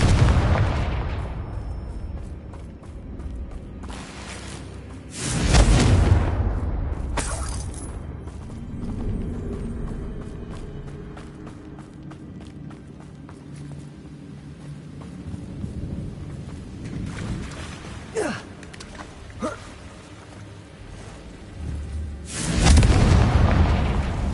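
Confringo spell explosions go off in the video game Hogwarts Legacy. A few heavy, rumbling booms stand out, at the start, around five seconds and near the end, over a lower background of game ambience.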